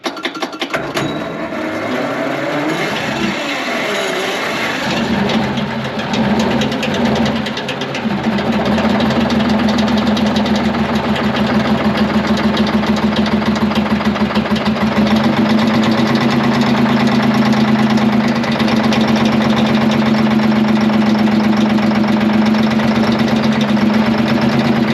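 An abandoned twin turbo Detroit Diesel 12V71 generator engine starts and then runs, a loud, close, steady diesel roar with a rapid throbbing firing rhythm and a strong droning hum that holds to the end.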